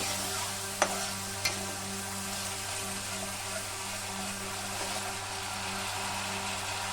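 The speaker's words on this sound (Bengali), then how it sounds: "এখানে আমি এই মশলাটাকে কুক করে নেবো" Cumin and coriander powder masala cooking in a pan for a Bengali aloo potol korma, a steady soft sizzle with constant hum and two brief clinks of a spoon early on.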